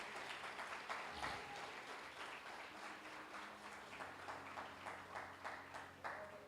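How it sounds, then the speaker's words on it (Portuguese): A church congregation gives a round of applause during an evangelism service, fairly quiet and diffuse clapping with a faint rhythmic pulse and some low tonal sound underneath. "Dê uma salva de palmas ao Senhor"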